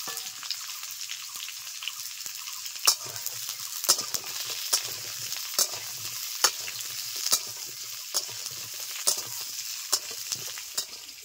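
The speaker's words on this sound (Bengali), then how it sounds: "পটলগুলো দেওয়ার পরে 3-4 মিনিট নেড়ে চেড়ে নিয়েছি" Pointed gourd and potatoes fry in a pan under a constant sizzle while a spatula scrapes and clicks against the metal in a slow, regular stirring rhythm, close and clear with no voices.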